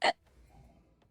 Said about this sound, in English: That was a big hiccup.